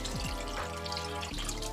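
Water streams steadily from a tap or is poured into a cooking pot for one-pot pasta, a continuous close splashing rush with a shift in pitch as the level changes, no talk.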